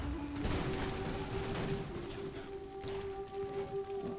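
Cannon volleys fire in a Prussian army battle in the strategy game Imperial Splendour. The blasts ring out as a dense rumbling fusillade of rapid overlapping booms, loud and continuous, with a sustained tonal hum running underneath.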